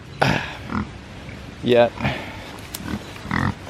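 Pigs grunt and oink in a wooded pen, several short close grunts spread through the clip, with people talking nearby over and between them.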